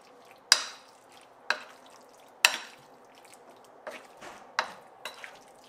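Marinade stirred into lamb pieces for tagine, a series of wet slaps and scrapes spaced roughly a second apart, close and fairly quiet with no talk.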